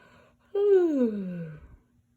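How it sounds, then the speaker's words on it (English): A single long yawn, a sudden breathy voiced onset that glides downward in pitch and trails off over about a second, close and clear against near silence. "it starts inside of our bodies and it comes out of our mouth like a big breath and a sound"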